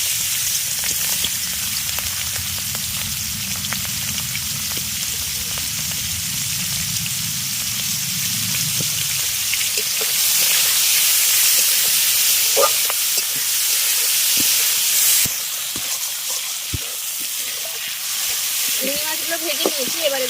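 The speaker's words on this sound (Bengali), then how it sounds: "তেল গরম হয়ে গেছে এবার চিংড়ি মাছগুলো দিয়ে দেবো" Prawns fry in hot oil in a pan, a steady loud sizzling hiss that swells and settles, with faint stirring clinks and a brief clatter near the end.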